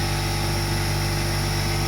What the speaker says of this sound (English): Excuse the compressor.